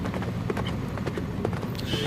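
Horse hooves clip-clop as a king rides out through the dark at night, a quick run of soft, rhythmic knocks over a thick low rumble, close and brief.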